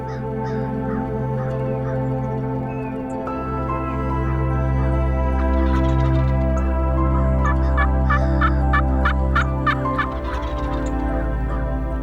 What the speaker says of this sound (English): when you hear turkey gobble and you yelp back at him and he cuts you off